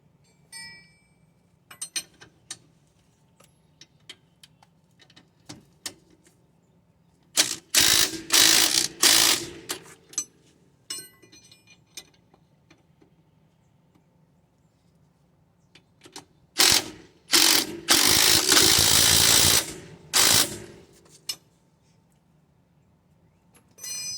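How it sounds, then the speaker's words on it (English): A floor jack is worked under a car during a lift kit install, with scattered ratcheting clicks and two longer bursts of dense mechanical clatter, close and fairly loud. "The floor jack can help you get it pushed where you need it to be."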